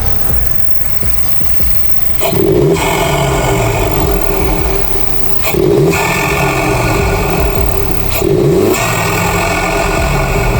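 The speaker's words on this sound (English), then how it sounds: "I'm gonna give it a rev one more time." A car engine fitted with an aftermarket intake revs up three times in bursts over a steady idle, each rise loud and throaty with a raspy intake note, then settling back.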